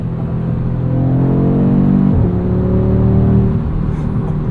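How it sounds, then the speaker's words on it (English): A 2022 Audi RS 3 five-cylinder engine drives with a loud, steady low rumble, the pitch shifting slightly around the midpoint as the car keeps moving. "the 5-cylinder just makes a symphony of sounds"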